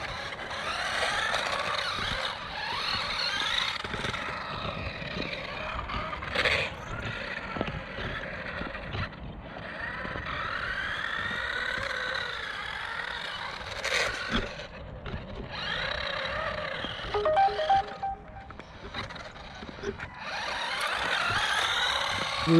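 A 1/12 scale MZ Products YY2035 C RC car on 7.4V drives around a skate park, its electric motor whining up and down in repeated bursts as the wheels spin, heard close with brief gaps.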